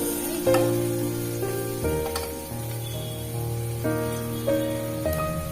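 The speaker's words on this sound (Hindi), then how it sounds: "गोल्डन ब्राउन होने तक भून लेना" Pumpkin with chana and arhar dal fries in a pan over a medium flame, a soft, continuous sizzle running under steady musical tones.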